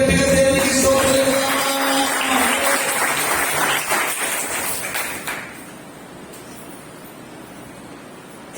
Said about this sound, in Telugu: చప్పట్లు కొట్టి గట్టిగా దేవునికి స్తోత్రం